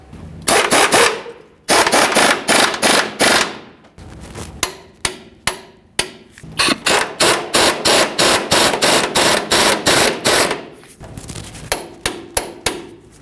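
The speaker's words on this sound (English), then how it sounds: "Now we'll snug those up and torque each of them to 148 foot-pounds." Rapid rattling bursts of metallic hammering ring out as 21mm lower control arm mounting bolts are driven tight into the frame of a 1998-2011 Ford Ranger. The bursts are loud and close, come in repeated runs, and have short gaps between them.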